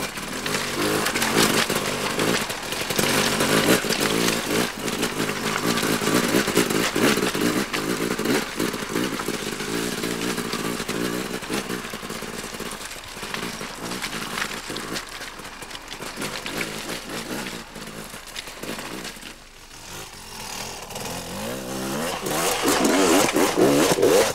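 An enduro motorcycle accelerates smoothly over rough off-road ground, its engine droning loud and close with steady throttle changes across the whole stretch, dipping briefly before climbing again.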